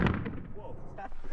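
A single explosive charge detonates at a weapons-training range, a sharp heavy burst with a rumbling decay that fades over about a second.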